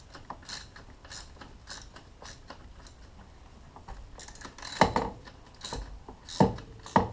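A ratchet clicks in short rapid bursts while a mounting ear is unbolted on a Dodge 4.7L V8. The clicking is close and crisp, with a few louder knocks toward the end.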